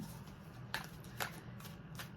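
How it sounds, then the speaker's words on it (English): Soft riffle-shuffling of tarot cards, several quick brushing bursts close by in a quiet room. "Just a couple more shuffles here"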